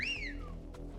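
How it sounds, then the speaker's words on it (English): A single short whistle from Final Fantasy XVI rises and then slides downward, loud and clear over a low steady game hum. "That's a heck of a whistle."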